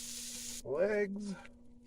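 Eggs fry on a hibachi grill inside a van. A bright, close sizzle hisses for a moment, then a voice speaks over it as it fades.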